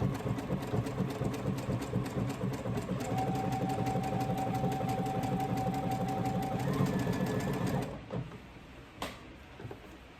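Home sewing machine running steadily for about eight seconds, stitching a narrow wobbly stretch stitch to assemble a raglan shirt, a close, even mechanical whir with a fast pulsing rhythm that then stops, leaving brief handling clicks.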